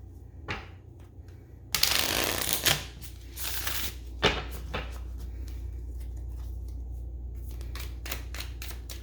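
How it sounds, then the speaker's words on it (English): Crisp riffling and flicking of tarot cards being shuffled up close, a dense burst of rapid snaps followed by softer intermittent taps over a low hum. "Do a quick shuffle."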